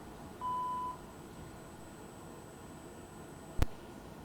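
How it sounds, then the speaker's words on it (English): A single clear answering-machine beep tone sounds after a recorded voicemail greeting, followed by quiet hiss and a sharp click. "please leave a message after the tone and we'll get back to you as soon as we can"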